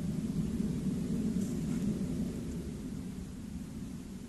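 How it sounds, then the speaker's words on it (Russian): Distant Russian military aircraft drone overhead at night near Chernihiv, Ukraine, a broad low rumble that holds steady and slowly fades a little, with no voices. "Два самолета в воздухе."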